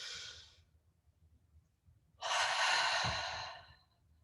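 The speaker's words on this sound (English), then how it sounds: "you can bask in this light for a moment and make a big breath" Two long breaths, a short airy exhale followed after a pause by a longer, fuller breath, close and soft in a quiet setting during a guided meditation.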